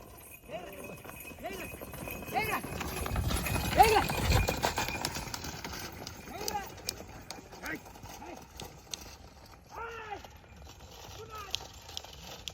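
A young bull's hooves clop on hard ground in an irregular walking rhythm while people talk nearby, some scuffing and shuffling around them.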